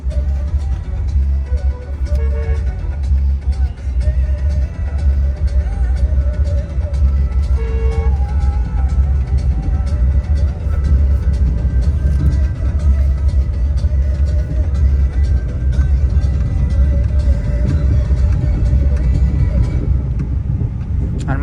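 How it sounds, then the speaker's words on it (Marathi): Buses rumble in and out of the Akluj bus stand amid busy street traffic, a loud continuous low engine roar with a few brief tonal honks near the start. "इथनं गाड्या आतमध्ये जातात आणि इथनं बाहेर येतात बघा"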